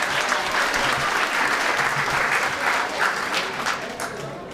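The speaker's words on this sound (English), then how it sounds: "I'd just like to give one more round of applause for Mr. Corey Marshall." Dense, steady applause from an audience at an eighth grade graduation ceremony, sustained and fairly loud throughout with no pauses.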